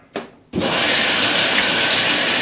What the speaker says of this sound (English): there is definitely a good amount of water, a good wide amount of water going through there right now